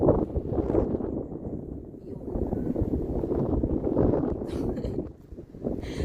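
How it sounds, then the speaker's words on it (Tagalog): Strong wind by the Rhine at Dormagen, Germany, roars and buffets the microphone continuously, with people talking underneath the gusts. "Lakas ng hangin, di ba?"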